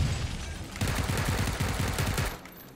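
Rapid automatic gunfire from a first-person shooter video game, a dense burst of repeated shots in steady rhythm that fills the clip loudly before tapering off at the end.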